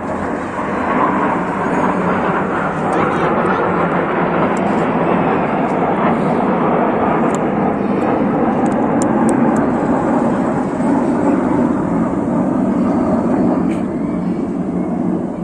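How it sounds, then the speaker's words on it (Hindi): Su-30 fighter jet roaring overhead during an Indian Air Force Republic Day air show rehearsal, a loud, steady broadband jet rumble that fills the whole stretch, with crowd voices faintly underneath. "वो देखो, Su-30 फाइटर जेट।"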